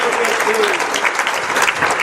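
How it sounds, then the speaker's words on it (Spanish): A church congregation applauding during a Spanish-language service, a dense burst of clapping that fills the room, with a voice briefly heard beneath it. "Un aplauso al Señor esta mañana."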